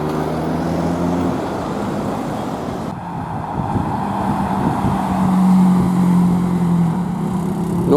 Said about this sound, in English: Few cars leaving now. Another Mark 1 RS. Oh yes. It's a nice Sierra RS Cosworth.